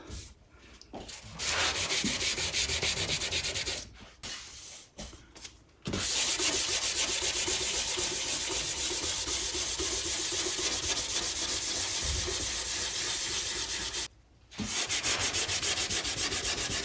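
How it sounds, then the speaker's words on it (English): Hand sanding of cured EM6000 brush-on finish on an acoustic guitar body gives a steady, loud rasping rub, with brief pauses near the start and once more toward the end. "It doesn't take much to get a good sanding powder going."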